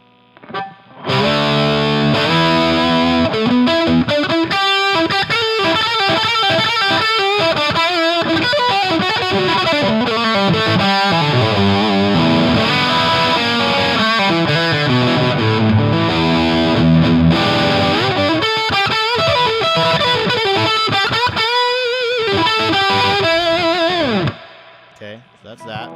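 A distorted electric guitar plays a continuous riff with the strings left bare and no fretwrap, loud and close, sustaining for about twenty-two seconds before cutting off abruptly.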